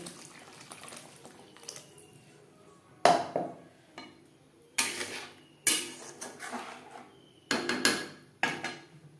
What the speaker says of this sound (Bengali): মশলার সাথে গোবিন্দভোগ চাল বেশ ভালো করে মিক্সড করে দেব